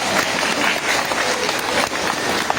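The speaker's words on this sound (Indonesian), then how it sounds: "Tepuk tangan kita dulu itu." A loud, close audience breaks into applause during a Batak comedy show, with busy, fast clapping that packs the whole moment and a few voices mixed in beneath it.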